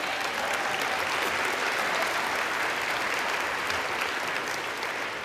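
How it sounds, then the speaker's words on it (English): In the U.S. House chamber, applause fills the room as a steady, dense wash of clapping that holds at an even level for several seconds. "Can we have a round of applause for them, please?"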